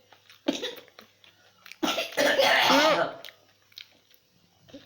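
A child coughs in a few harsh bursts, one short and then a longer, heavier fit, in a quiet indoor room at a family wedding gathering.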